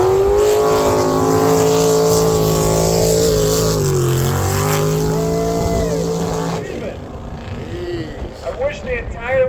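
A methanol-powered drift car at a drift series round on Suika Circuit, its loud engine roaring and revving with shifting pitch close by, then dropping off toward the end, with a commentator talking over it.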